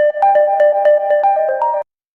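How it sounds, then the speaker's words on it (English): A phone ringtone plays alone, a repeating electronic melody of short tonal notes in a steady rhythm that rings loud and close for almost two seconds, then cuts off into silence. "if you was Ty, would you have answered that phone"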